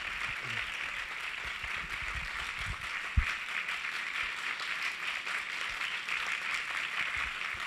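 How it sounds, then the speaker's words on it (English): A hall audience applauds after a devotional drama performance, producing a steady, moderately distant wash of clapping that holds throughout with one sharp thump near the middle. "Let's give them another round of applause."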